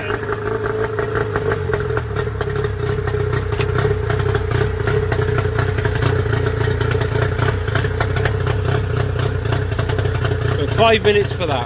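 An outboard boat motor running steadily while being flushed out, a loud constant engine drone with rattling clatter throughout and someone talking over it.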